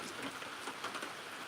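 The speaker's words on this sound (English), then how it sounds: "So I love when it's raining morning like this and we're already in the kitchen" Steady rain falls on an off-grid homestead on a morning, a dense, even patter of drops that fills the whole stretch without pause and with no voices.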